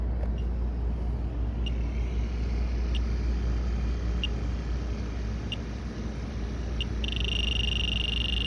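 An electronic leak detector used during apartment maintenance gives a series of evenly spaced high beeps and then switches to a continuous shrill tone, all over a steady low background hum.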